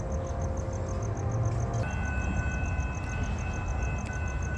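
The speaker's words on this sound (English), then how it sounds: "Okay, here comes Amtrak 584. Sounds like a P40." Amtrak 584 passes in Encinitas, likely hauled by a P40 locomotive, a steady rumbling drone of the train with tonal whines shifting partway through, fairly close and continuous with no talk.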